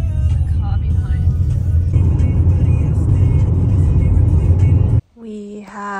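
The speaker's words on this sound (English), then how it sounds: "Driving the biggest car she's ever driven before." A large car cruising on a New Zealand road, with a steady loud engine and tyre rumble for about five seconds that then cuts off abruptly, leaving quieter background sounds.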